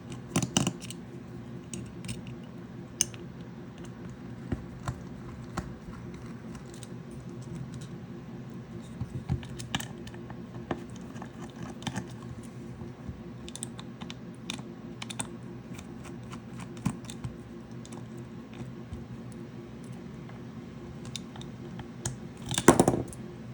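Small tools tick, click and scrape at close range while case screws are removed from a Yaesu VX-5R handheld radio, with faint irregular taps over about twenty seconds and a louder clatter near the end.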